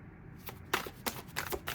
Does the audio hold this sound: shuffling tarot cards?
yes